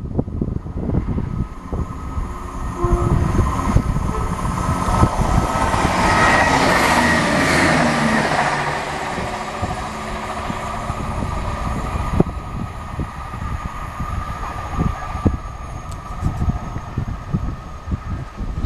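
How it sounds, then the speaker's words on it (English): A train bound for Marylebone rushes past on a breezy day, a loud rumbling pass that peaks midway and then fades into wind noise and distant track rumble. "Another train going to Marylebone."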